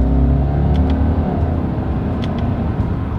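A 2021 Subaru Legacy accelerating hard in first gear during a paddle-shifter run, its engine drone and road rumble loud and steady from inside the cabin with no talking.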